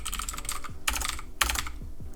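Rapid clattering keystrokes on a computer keyboard while coding, with quick irregular bursts and a few louder key presses, close and alone with no voices.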